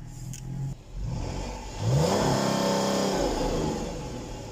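A Dodge Magnum's engine idles, dips briefly, then climbs in a rising throttle rev and holds a loud, throaty drone before easing back, heard close with no talking.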